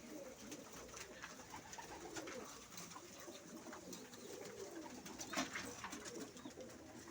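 Pigeons coo steadily in soft, overlapping calls at a rooftop pigeon loft in Istanbul, amid a busy outdoor ambience with scattered chirps and rustling throughout.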